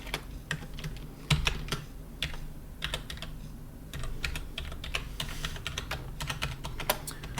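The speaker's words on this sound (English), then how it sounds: "So we're going to go ahead and type our password in right now." Keys clatter on a computer keyboard as a password is typed, in irregular bursts of close, crisp taps with brief pauses between them.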